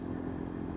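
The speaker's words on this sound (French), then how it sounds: "tu lâches l'accélérateur, tu ralentis direct" A 125cc four-stroke motorcycle decelerating on engine braking after the throttle is released, giving a steady close engine drone with a low hum throughout, no voices.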